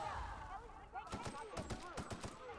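Rapid gunfire from a weapon in the video game The Outer Worlds, a burst of sharp repeated shots over about a second and a half, mixed with game sounds and a voice.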